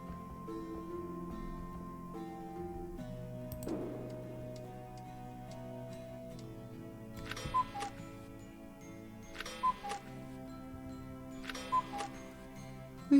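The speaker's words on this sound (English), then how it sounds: "lots of loud clocks in the house." Loud ticking clocks in a house in the video game Framing Dawes, a faint regular ticking over low ambient game music, with a few sharper clicks later in the clip.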